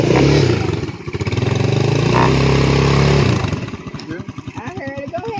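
An ATV engine running loud and close, with a rough throb that swells into revving bursts toward the end, people talking over the noise.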